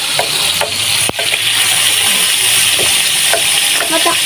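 Garlic frying in a pan, a steady close sizzle running throughout, with a few scrapes of stirring and one sharp knock near the start.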